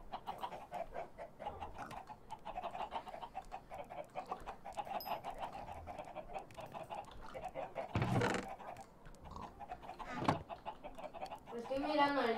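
Chickens in the video game Minecraft cluck and squawk in short calls. The calls are mixed into a steady game soundscape, with a few louder bursts and a final rising squawk toward the end.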